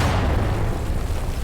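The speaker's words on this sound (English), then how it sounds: "All I hear is uh-oh, and then a massive explosion." A massive explosion in the video game Garry's Mod gives a loud, sustained, rumbling roar that fills the whole moment without pause, with no talk over it.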